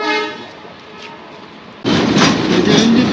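A Joydevpur commuter train engine runs alongside an 8 to 9 coach rake on its way to couple; a faint rumble swells abruptly into loud, close rolling and rattling noise partway through.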